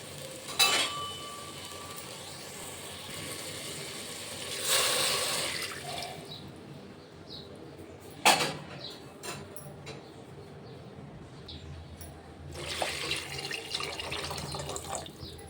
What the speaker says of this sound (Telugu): ఇప్పుడు వాటర్ వేసేసుకున్నామండి